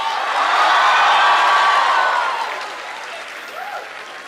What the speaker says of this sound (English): A huge round of applause to you guys on behalf of our classmates.